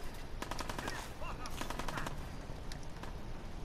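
Rapid bursts of auto pistol fire crackle through a firefight in Fallout 4, with several quick volleys of shots spread across the scene at a modest, somewhat distant level.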